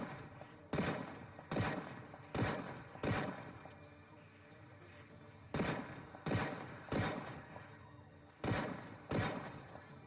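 Sawed-off shotgun blasts in the Project Zomboid video game: about nine loud, sharp shots fired in uneven bursts of two to three, separated by brief quieter gaps with no talking.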